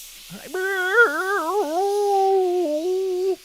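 A person imitates a wounded dog whimpering with one drawn-out, wavering nasal whine that rises and falls, heard alone and up close.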